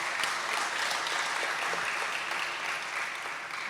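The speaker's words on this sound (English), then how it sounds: "let's give her a round of applause" Steady applause from a crowd at a school netball awards ceremony, dense and even throughout with no voices standing out.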